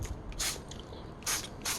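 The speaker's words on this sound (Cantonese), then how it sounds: "再喺玻璃紙面度噴水。" A spray bottle mists water onto a cellophane sheet laid over a drawing, giving several short, soft hissing bursts, quiet and close, separated by brief pauses.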